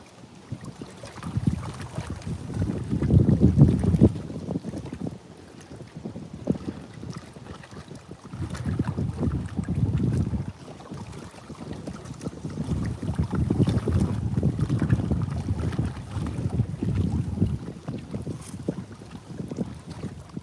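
Strong wind buffets the microphone in rumbling gusts, rising and falling over open water during catfish fishing in South Carolina, with no voices.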